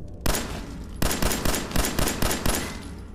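Pistol shots ring out in Fallout 4, a series of about eight loud, sharp reports at a steady pace, each with a short decaying tail and no talk between them.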